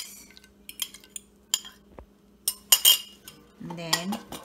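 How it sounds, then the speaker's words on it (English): Cutlery clinking against a bowl while dough ingredients and eggs are mixed, giving a series of sharp, irregular taps and scrapes, close and fairly clear, with no talking. "and then I'm gonna mix"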